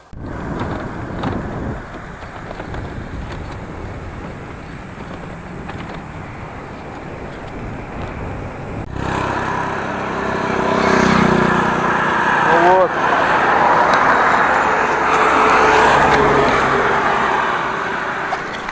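A car drives along a road in Vietnam near Da Nang, its engine and road noise a steady, close rumble throughout, growing louder and rougher about halfway through as the vehicle gathers speed.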